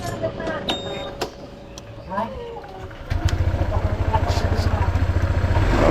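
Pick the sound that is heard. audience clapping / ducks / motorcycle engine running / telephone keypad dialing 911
motorcycle engine running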